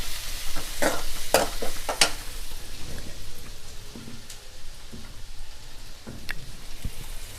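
Curry leaves and about three green chilies sauté in a pan for a paruppu urandai kulambu, with a steady sizzle and several sharp crackles and spatula scrapes early on, then a quieter continuous frying hiss.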